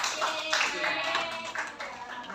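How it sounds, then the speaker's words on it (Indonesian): Classroom of students clapping for a presenting group during a microteaching session, continuous brisk applause mixed with a voice, moderately close. "Boleh berikan tepuk tangan untuk kelompok 2."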